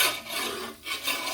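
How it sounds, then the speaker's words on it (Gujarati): A spoon scrapes stuck residue off the sides of a pot while makhan mishri is made, producing a continuous close rasping rub with brief dips, no talk. "સાઈડમાં લાગ્યું છે તે બધું નીચે પાડી દઈએ"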